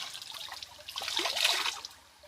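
Rinsed clothes wrung out beside a river, water trickling and dribbling back down in a soft, close stream that swells and then fades.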